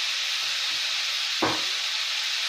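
Cabbage rolls stir-fry in a pan with a steady, even sizzle, broken once by a short scrape or clunk of stirring.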